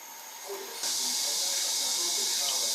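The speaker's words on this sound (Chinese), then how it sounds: "把锅烧至冒青烟，加油" Cooking oil hits a wok heated until it smokes and bursts into a loud, sudden hiss of sizzling, following a quieter stretch of background noise, then holds steady and close to the end.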